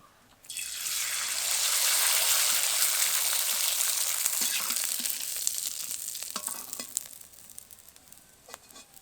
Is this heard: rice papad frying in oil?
yes